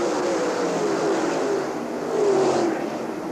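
World of Outlaws sprint cars racing at Eldora Speedway in 1997, with a loud, continuous engine roar and a rising and falling whine as cars sweep past.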